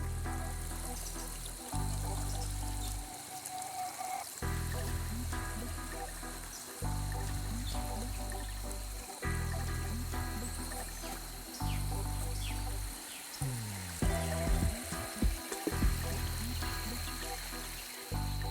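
River water flows and trickles steadily at a rural riverside spot, a continuous close burble with shifting pours, with faint birds in the background.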